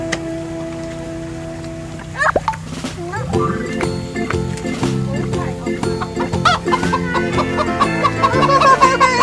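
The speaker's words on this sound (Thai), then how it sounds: "เออไปเจอไก่ ไก่ตัวใหญ่ไปไหนเนี่ยไก่" Chickens cluck and squawk repeatedly nearby at a farm in Pathum Thani, Thailand, while people talk over them, with a steady patter like light rain in the background.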